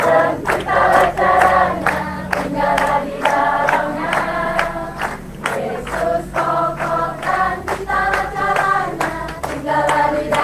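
A church congregation claps hands in steady rhythm while singing, loud and close, with continuous sharp claps throughout.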